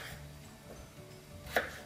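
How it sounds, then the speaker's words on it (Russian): A knife chops potatoes into cubes for a vegetable ragout, quiet and close, with one distinct cutting knock near the end. "Теперь можно порезать наш картофель."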